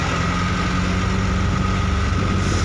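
A Hino 500 truck engine idles steadily at a night worksite where stone is being loaded for causeway fill near the sea, a continuous low rumble with a faint tonal hum, with no talk.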